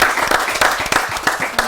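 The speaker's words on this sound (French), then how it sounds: "est-ce qu'on peut applaudir pour Tata Aristide?" An audience at a French children's show applauds, giving a short, dense burst of many hands clapping close by in an uneven patter.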